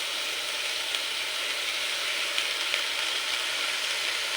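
Drained drumstick flowers cooking in a frying pan with brinjal, potato and spices, giving a steady, dense hiss of frying, close and even with no breaks, no talking.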